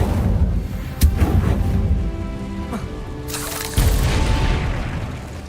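The Incendio fire spell goes off in Hogwarts Legacy as a sudden whooshing burst of flame, with a sharp impact before it and a louder rushing blast later, set against ongoing game effects and background rumble.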